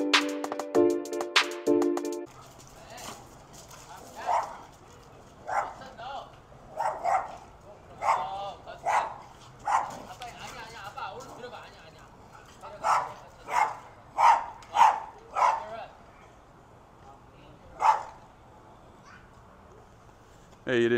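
A reactive dog barks in a series of sharp, evenly spaced single barks at close range, with people talking at the start and a low background hum throughout.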